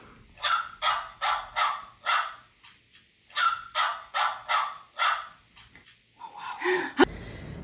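Dog barking sound played from a children's animal book, two runs of four or five evenly spaced barks close and clear, then a short yip and a click at the end.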